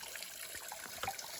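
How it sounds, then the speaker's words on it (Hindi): Water seeping from a hillside above and flowing down through a pipe, a continuous trickling, splashing flow with small irregular drips, fairly close and steady, with no talk. "ऊपर से पानी रिस के आ रहा है और इसमें ही पाइप लगा दे, तो पाइप के थ्रू ये ऐसा नीचे जा रहा है बह करके"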